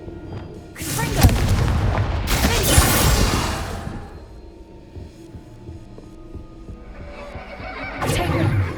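Confringo, an explosive fire spell, cast in the video game Hogwarts Legacy, producing loud booming blasts with crackling bursts. Two strong impacts come early and a weaker one later, over a rumbling game background.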